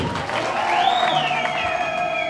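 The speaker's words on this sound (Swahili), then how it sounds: "Makofi mengi kwake." Crowd applause at an outdoor political rally in Tanzania, a steady wash of clapping and cheering that carries on loud throughout, with a sustained whistle or shout rising over it.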